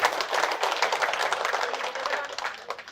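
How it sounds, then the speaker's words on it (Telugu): A live audience at a Telugu motivational talk on happiness claps loudly, a dense, steady burst of many hands that fills about three seconds without pause. "గట్టిగా చప్పట్లు కొడదాం."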